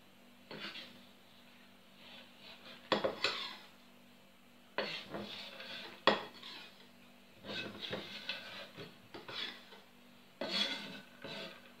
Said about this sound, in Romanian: Amestecăm și lăsăm să se topească ciocolata.